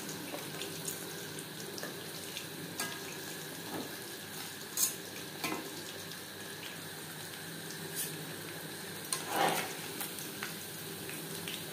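Chicken pakora frying in hot oil over a medium flame, with a soft steady sizzle and scattered clinks and splashes of stirring, quiet and close, with no voices.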